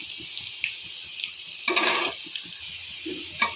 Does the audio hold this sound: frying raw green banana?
yes